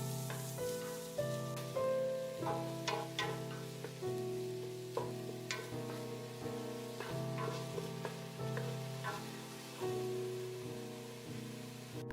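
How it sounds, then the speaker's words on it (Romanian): Finely chopped onion sizzles steadily in hot olive oil in a large pot over medium heat, a continuous frying hiss broken by occasional stirring clinks, close and fairly loud with no voices. "Când uleiul este bine încălzit, adăugăm 180 de grame de ceapă tocată mărunt."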